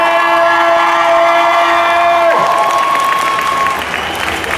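Loud, dense applause and cheering from a fan convention crowd in Paris, continuous clapping and whoops over a held musical chord that cuts off midway, the ovation carrying on alone afterward.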